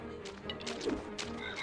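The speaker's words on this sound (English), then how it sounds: "Why are there frogs in this kitchen as well?" Frog croaking in the kitchen of the Ratatouille Wii video game, a steady, dense croak continuing throughout, fairly close, with no talking.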